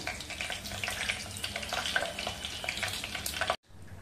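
Cumin seeds and a bay leaf sizzle in hot oil for a homemade offering meal, a steady close crackling fry with stirring scrapes, no talk, cut off abruptly near the end.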